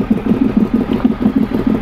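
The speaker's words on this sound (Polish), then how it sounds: "Ale Ducati 800 wali z rury." A Ducati 800 motorcycle engine runs at idle with a loud exhaust, giving a steady, rhythmic low throbbing pulse that is close and sustained, with no talk over it.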